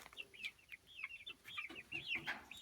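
Young, growing chickens peep in quick high chirps, a busy overlapping chatter of several birds close by on a hot day, with soft rustling underneath.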